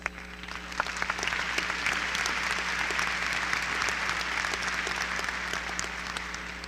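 A large audience at the Milwaukee Area Technical College 2016 spring commencement ceremony breaks into steady, sustained applause that swells within the first second and holds at full strength throughout, with a low hum beneath the dense clapping.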